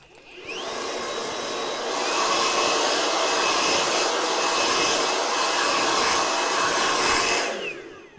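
A handheld blow dryer drying and styling hair runs as a loud, steady whirring blast, starting up, holding for several seconds, then switching off, with no talking.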